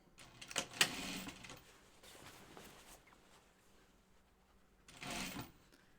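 A home sewing machine stitches a Tamarack vest in two short bursts, a rattling run near the start and another a few seconds later, with quiet gaps between.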